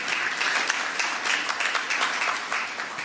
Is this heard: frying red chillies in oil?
no